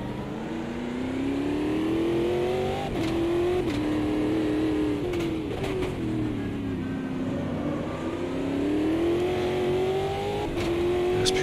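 A race car engine in the Automobilista 2 racing game howls steadily, its revs rising and falling through corners, with brief dips under hard braking and faint tyre and contact noises.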